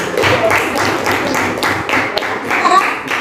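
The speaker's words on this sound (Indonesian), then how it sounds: "Tepuk tangan dulu untuk kelompok ini" Classroom applause for a student group, a steady patter of hand claps from many people filling the short moment, fairly loud and close.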